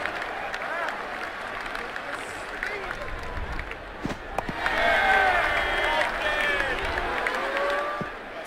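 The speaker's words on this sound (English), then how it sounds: "The crowd really enjoyed that one." Stadium crowd roars and applauds in the video game Brian Lara Cricket 2007 after a boundary, a steady crowd wash that swells louder midway, with a commentator's voice and game sounds over it.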